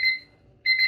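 Two loud bursts of an RGB digit clock's alarm beep, a sharp high electronic tone, with a short silent gap between them.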